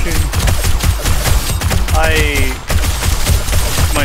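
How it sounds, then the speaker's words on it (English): Rapid gunfire in 7 Days to Die, a steady run of loud shots repeating through the whole stretch, with a person's voice rising briefly over the shooting. "Just keep shooting."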